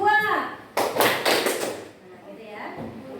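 A classroom of children clap their hands together on a teacher's count, making a sudden dense burst of many overlapping claps that fades after about a second, with children's voices around it.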